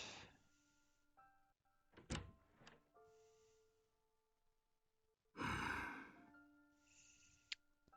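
A door opens in the visual novel ChäoS;Child: a couple of soft thunks, then a louder whooshing burst about midway, set against quiet sustained background music tones.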